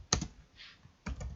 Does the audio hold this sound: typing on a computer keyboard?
yes